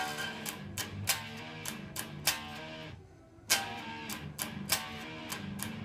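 Beginner acoustic-style guitar song with palm-muted strums, a steady rhythm of short damped chords repeating close and alone, briefly pausing before the strumming resumes.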